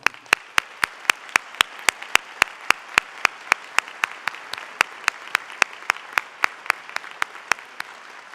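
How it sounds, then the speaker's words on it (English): A single person claps slowly and steadily at an honor society induction ceremony, about three claps per second, each sharp and distinct, with faint background murmur. "I think our students deserve a big round of applause."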